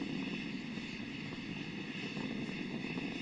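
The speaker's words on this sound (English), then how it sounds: "Three good engines throttling back to 2/3 of the rate of thrust." Space Shuttle Discovery's three main engines during launch, throttled back near maximum dynamic pressure: a steady, dense, continuous roar with no pauses.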